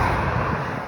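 Constant low rumble of highway traffic from the Greensboro Urban Loop, a dense, steady roar of passing vehicles with no distinct single pass in this short moment.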